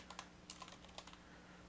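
Fingers tap out a quick, quiet burst of keystrokes on a computer keyboard, typing into a search filter in a software program; the clicks come in short irregular clusters with no voices.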